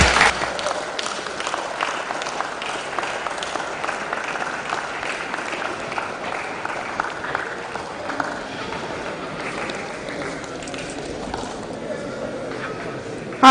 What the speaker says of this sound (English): A round of applause for Esther as she steps forward.